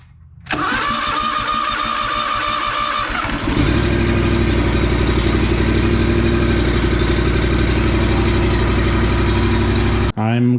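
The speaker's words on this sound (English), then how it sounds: "let's see if this Toro will start" A Toro engine with the choke on cranks for a few seconds, then catches and settles into a loud, steady idle that runs until it cuts off abruptly near the end.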